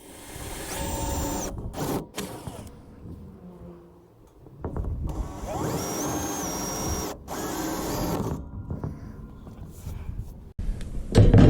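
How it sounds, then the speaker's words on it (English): A power drill whines in two sustained runs with pauses between, close by, drilling a hole for a rivet nut, ending with a few clicks and handling noises. "drill a hole, mark it."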